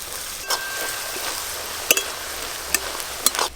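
Whole cumin seeds and chopped onion frying in oil for a stingray fish curry, a steady close sizzle with a few sharp clinks of a spoon against the pan, no talk.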